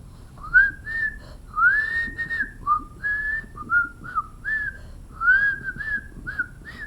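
A person whistles a halting, amateurish tune on their own, with short warbling notes and brief pauses between phrases, close and fairly soft.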